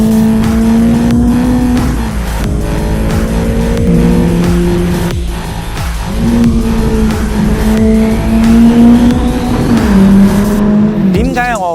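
A Ferrari Roma drives with its engine note loud and close, rising and falling as it revs through the gears, with a sharper climb near the end.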